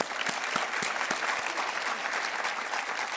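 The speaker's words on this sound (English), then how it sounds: "I want to give them a round of applause." Audience applause at a university address, a dense, sustained burst of many people clapping in a large hall, loud and steady with no speech over it.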